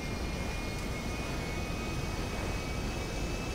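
Steady broadband jet roar from an airplane flying over the city in GTA 5, constant and fairly close with no talk.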